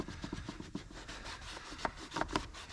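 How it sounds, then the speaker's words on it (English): A brush scrubs a car's interior with repeated rubbing strokes, quiet and close, in short uneven bursts with no talk. "Scrub out a little harder with some elbow grease"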